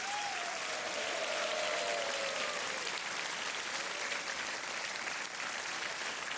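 Studio audience applause on the Kaun Banega Crorepati set in 2013, a dense, steady wash of many hands clapping at even loudness throughout, with a faint tonal sweep early on and no talking.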